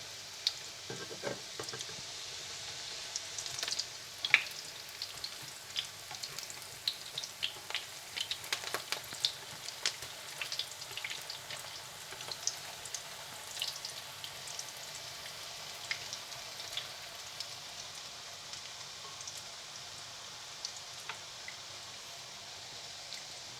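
Fish shami kababs fry in a pan with a quiet, continuous crackle of oil, dotted with many small rain-like pops throughout.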